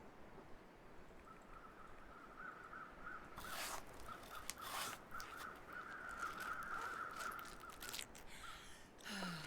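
Crows caw in a snowy wilderness survival video game, a few harsh calls rising over a steady wind-like hiss that runs the whole time, fairly faint and without talk.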